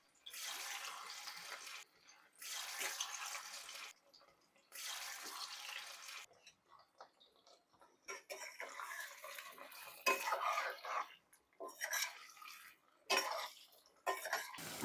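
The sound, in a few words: potatoes frying in hot oil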